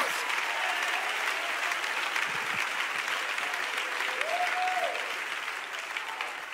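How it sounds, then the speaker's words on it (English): Sustained applause from a church congregation during a sermon, steady and full across the room, with a brief voice or cheer rising partway through before tapering slightly at the end. "Clap your hands"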